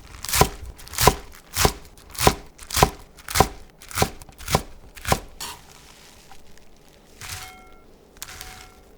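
A knife chops 200 g of chives into 1.5 cm lengths on a cutting board, eight sharp, evenly spaced knocks for about five seconds, then quieter handling and a couple of light clinks.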